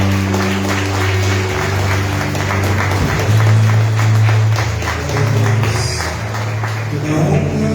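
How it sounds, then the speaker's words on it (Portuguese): A church congregation applauds during a worship service, steady clapping over a sustained organ or keyboard chord, with sharper taps mixed in throughout. "Vamos aplaudir ao Senhor"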